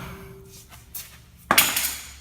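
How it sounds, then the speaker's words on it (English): A hammer strikes the end of a Kubota RTV front CV axle shaft, one sharp close metallic hit after a couple of faint knocks, with no talking. "So just be nice and square with your hammer."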